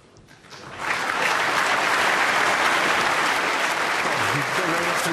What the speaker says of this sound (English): You don't very often get a round of applause for putting it back over the pocket